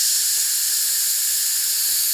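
Steady, loud hiss of steam venting from a pressure cooker after black bean chili has cooked, a continuous high, airy rush holding unchanged for the whole stretch with no talk over it.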